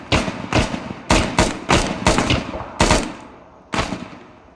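An AK rifle fires in the video game Arma 3. Loud, close shots come in quick irregular bursts of about ten reports, and each one echoes briefly before fading.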